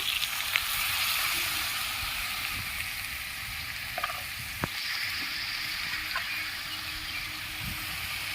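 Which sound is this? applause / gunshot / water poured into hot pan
water poured into hot pan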